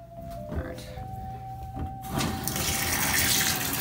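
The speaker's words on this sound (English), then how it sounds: "Sonic, you're going in the bath." Tap water gushing into a bath, starting softly with a few splashes and then surging into a loud, continuous rush.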